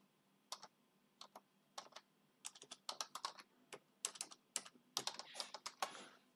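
Fingers typing on a computer keyboard, loud in bursts of rapid key clicks separated by short pauses, growing quicker and denser toward the end, with no voices.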